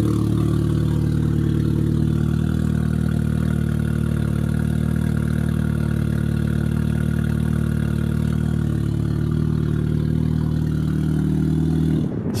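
A 1989 Chrysler TC 16v engine, running without its exhaust, idles steadily and loudly with a low, even rumble for the whole stretch, cutting off abruptly at the end.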